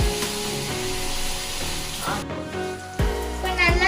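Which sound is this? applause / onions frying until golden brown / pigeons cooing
onions frying until golden brown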